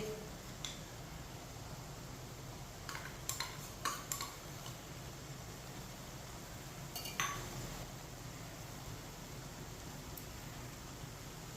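A spoon lightly clinks against a pot while colored rice is added for mutanjan, a few faint metallic taps scattered over a low steady background hiss, with a small cluster of clinks partway through.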